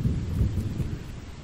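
Low rumbling thunder from a lightning storm rolls through a zombie survival game world, a deep, uneven growl over a steady hiss of rain, fading slightly toward the end with no voices.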